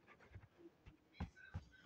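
A pet dog pants in quick, rhythmic huffs, close to the microphone but faint, for just under two seconds in a quiet room. No speech.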